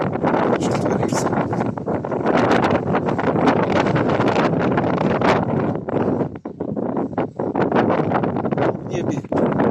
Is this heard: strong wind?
yes